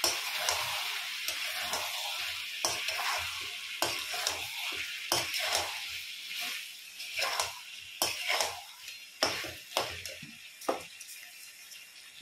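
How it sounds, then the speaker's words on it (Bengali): Meat sautéed in oil in a pan over medium heat, fried until the oil separates. A steady sizzle runs throughout, broken by repeated spatula scrapes and clanks that grow louder and sharper toward the end; no one speaks. "এবার মাংসটাকে ভালোভাবে কষিয়ে নেব, যতক্ষণ না তেল ছাড়ছে মাংসর গা থেকে ততক্ষণ কষিয়ে নিচ্ছি"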